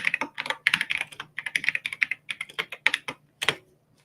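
Rapid typing on a computer keyboard, close and clear, with uneven bursts of key clicks and brief pauses, ending in a few isolated strokes before falling quiet.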